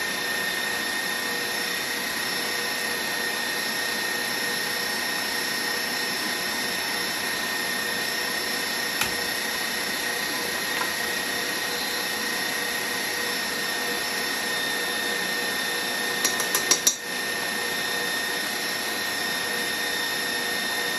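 An electric mixer whirs at a steady, loud, continuous pitch, beating angel food cake batter with cream of tartar toward soft peaks, with a short rattle of the beaters against the bowl near the end.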